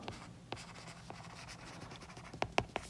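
Marker scratching out a word on a board in a quiet room: soft, faint strokes spaced through the first half, then a quick cluster of sharper squeaky taps near the end.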